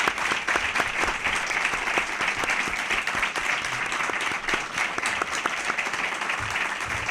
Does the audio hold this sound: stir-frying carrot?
no